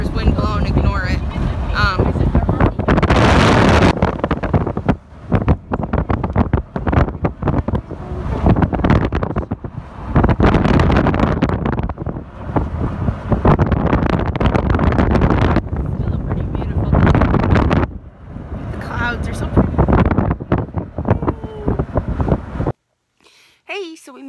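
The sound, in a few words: strong wind blowing on a windy day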